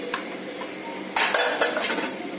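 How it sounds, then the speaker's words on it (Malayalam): A metal pressure cooker lid is opened after steaming carrots for carrot halva, giving a few close metallic clinks and clatters over a faint background hiss, with no talking. "നമ്മുടെ കുക്കറിന്റെ ലിഡ് നമ്മൾ തുറക്കുകയാണ്."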